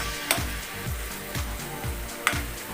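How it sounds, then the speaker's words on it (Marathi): Onion and curry leaves fry in hot oil for an egg curry, a steady sizzle with a few sharp pops and soft stirring knocks, close and continuous with no voices. "आता कांदा आणि कढीपत्ता चांगलं भाजून घेऊया तेलामध्ये."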